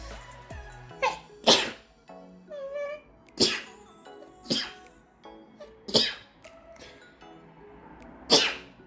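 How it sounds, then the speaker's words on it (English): A run of sharp, explosive hay-fever sneezes, about six of them, close and loud, spaced by short breathy pauses. "I'm going to sneeze."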